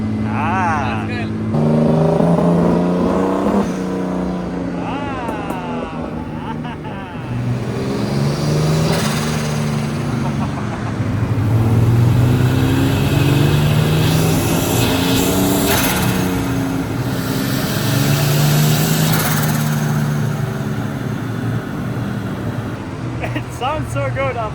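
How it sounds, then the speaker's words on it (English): Turbocharged BMW E36 323 engine running on a dyno, its revs rising and falling in repeated swells over a steady idle, loud and close, with people talking over it in German and English. "the car seems to be kind of running now"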